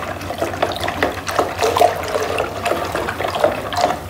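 Caustic soda solution is stirred in a container, giving continuous close watery sloshing and swirling with small splashes, loud and without speech.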